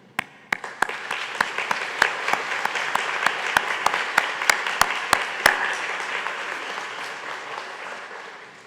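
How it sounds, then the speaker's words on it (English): Graduates at a Baylor Law commencement applaud their parents and family, a dense, sustained wave of clapping from a large indoor crowd with sharp individual claps standing out, swelling and then slowly thinning out toward the end. "stand up and turn around and applaud the people who really matter today, which is your parents and family"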